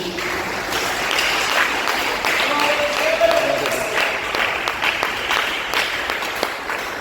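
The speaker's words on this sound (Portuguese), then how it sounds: "dê uma salva de palmas para Jesus" A church congregation applauds together during a service, a broad, even wash of clapping sustained for about seven seconds with faint voices mixed in.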